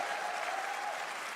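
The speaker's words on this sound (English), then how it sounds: "Now let's also applaud Claire Obscure from Sandfall." An audience at Summer Game Fest applauds, a dense, steady wash of clapping that stays even throughout, with no talking on top.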